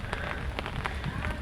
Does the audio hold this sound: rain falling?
yes